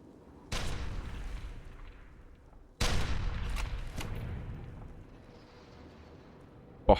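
Gunfire in the video game FEAR 2: two heavy, booming shots with long rumbling decays, a sharper crack in between and a brief click at the end, loud and close.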